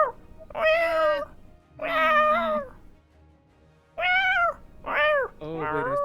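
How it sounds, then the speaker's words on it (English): A cat meows for attention in five drawn-out, clear calls at close range, with short pauses between them and a longer gap near the middle. "who has a cat? Oh, it wants attention."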